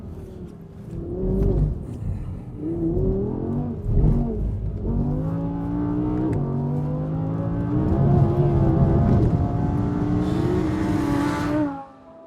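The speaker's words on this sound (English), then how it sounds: "It's one of the last normally aspirated cars of its type, and it sounds stunning." Naturally aspirated V10 engine of an Audi R8 V10 Plus revving hard and close, pitch climbing and dropping through several gear changes in a sustained loud wail, ending abruptly.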